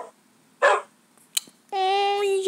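Wolf in the Minecraft mobile video game, a couple of short sharp barks followed by a longer whining, whimpering tone, close and clear with no talk.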